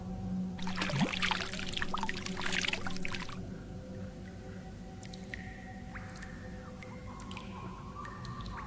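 Liquid pours and splashes for a few seconds in a medieval fantasy cartographers' guild ambience, then gives way to a quiet room tone with a few faint drips and small clinks.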